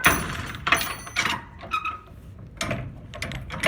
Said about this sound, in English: See, he's trying to close the door.